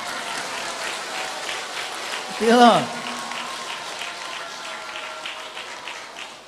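A crowd at a temple gathering after the Amitabha festival claps, and the even patter of applause runs throughout at moderate distance while a single voice briefly speaks over it.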